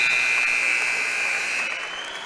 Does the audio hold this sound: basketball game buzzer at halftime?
yes